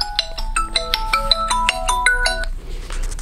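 A mobile phone rings at a knife exhibition, playing a bright, rapid electronic melody of short tones up close for about two and a half seconds before cutting off.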